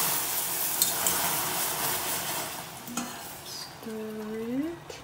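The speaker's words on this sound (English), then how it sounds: "And start to stir." Heavy whipping cream and coffee stirred into caramel sauce in a pot, giving a soft steady bubbling sizzle with a few light scrapes and clinks, ending in a rising squeak-like scrape near the end.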